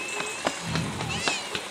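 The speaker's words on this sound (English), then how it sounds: "he meows like a cat" An otter gives a quick run of short, high, cat-like mews, about six in under two seconds, close up over a low background murmur.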